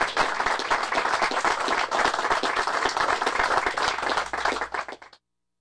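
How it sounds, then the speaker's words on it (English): A round of audience applause at a local lumbering-heritage program rings out as dense, even clapping for about five seconds, then fades out quickly. "let's have a round of applause."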